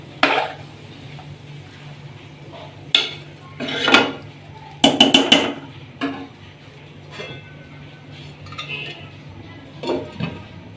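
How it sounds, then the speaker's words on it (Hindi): A pot of gobhi gosht, cauliflower and mutton curry, being stirred with a utensil and then covered, producing a few sharp metallic clinks and scrapes close up against a low steady background hum. "इसको अब अच्छे से मिक्स करके हम ऊपर से कर देंगे कवर"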